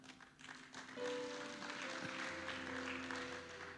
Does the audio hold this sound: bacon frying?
no